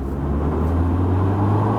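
A Peugeot 5008 SUV on 225/55 R18 tyres picks up speed on a test drive, a loud, steady engine and road drone heard from inside the cabin with no talking.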